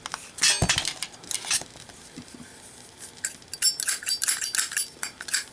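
A Punisher-edition Zippo lighter in black matte finish, made in 2013, clicks and clinks as its metal lid is flipped open and snapped shut several times, close and crisp with no talking.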